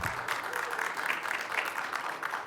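Conference audience at a ShmooCon hacker convention talk track applauds, a soft, somewhat distant wash of clapping that holds steady for a couple of seconds without speech.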